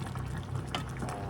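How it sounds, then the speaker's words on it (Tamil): Water boiling in a cooking pot on a stove, a steady, even bubbling and rolling simmer that holds throughout, fairly close, with no voices. "தண்ணி கொதிக்கிறது"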